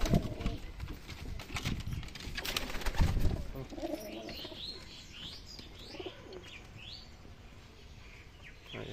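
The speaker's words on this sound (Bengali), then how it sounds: "এই যে আমার বাড়ির কালদম পায়রা বাচ্চা" Domestic Kaldam pigeons coo softly and chirp at close range. Several loud rustling knocks come early on, then the calls repeat on their own over a quiet background.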